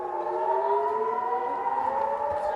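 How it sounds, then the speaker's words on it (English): Air raid sirens in northern Israel wail with a steady rising and falling tone, sounding somewhat distant and unbroken for a few seconds. "sirens wailed and rockets fell"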